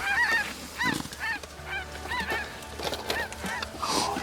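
A flock of snow geese near a hunting blind at dark, honking repeatedly in overlapping calls, loud and close, with no talk.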